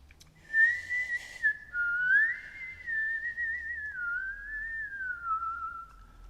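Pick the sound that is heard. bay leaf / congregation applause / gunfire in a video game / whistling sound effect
whistling sound effect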